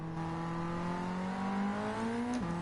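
A Ford Sierra RS500 engine in Gran Turismo 7 drones steadily high in the revs, its pitch climbing slowly before a brief dip near the end, heard alone as a smooth, loud, continuous note.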